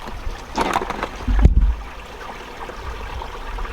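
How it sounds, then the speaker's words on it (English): Water gurgles and trickles steadily nearby as a river disappears into a cave, with a brief louder splash or knock partway through, no voices heard. "that water's going into a cave"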